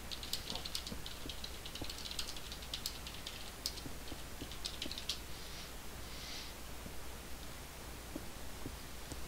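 Fast, light keyboard typing in quick irregular bursts, faint and close, over a steady low background hum during a game.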